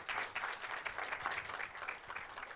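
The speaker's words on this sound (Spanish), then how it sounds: "Le damos un aplauso, por favor, para que empiece la plática" Audience applause at a business talk during an entrepreneurs' week, a steady wash of many hands clapping at moderate level with no voices over it.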